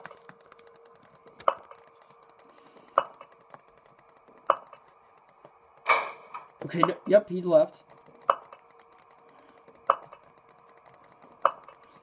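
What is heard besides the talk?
computer mouse being clicked repeatedly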